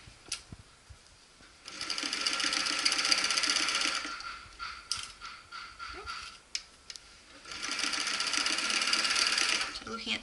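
A sewing machine topstitches all the way around a fabric pouch for rescued animals in two long, steady runs of fast, close stitching, with a quiet gap between them holding small clicks and handling sounds.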